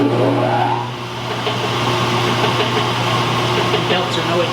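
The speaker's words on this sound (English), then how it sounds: "The belts are noisy." A Kearney & Trecker milling machine running with noisy belts, powered through a phase converter, a loud steady mechanical drone with constant hum and belt whine, close and continuous, with faint speech mixed in.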